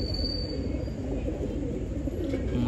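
Pigeon cooing close by, soft low rolling coos over a steady background hum, with no talk.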